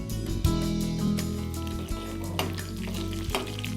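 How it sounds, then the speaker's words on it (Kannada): Cumin seeds sizzle and crackle in hot ghee, a steady close frying hiss under a low hum of kitchen or studio background, with a few sharper pops and stirring knocks and no talking. "ನಾನಿಲ್ಲಿ ತುಪ್ಪ ಹಾಕ್ತಾಯಿದ್ದೀನಿ. ಇದಕ್ಕೆ ಜೀರಿಗೆ ಹಾಕ್ಕೊಳ್ಳೋಣ."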